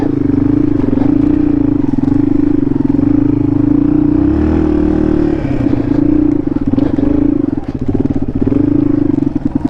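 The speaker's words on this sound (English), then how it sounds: "this bike in first gear is so good for trails. It'll just climb over anything." A trail motorcycle grinds along in first gear, its engine droning loud and steady throughout, with clattering and scraping from the rough ground and a brief change in engine note midway.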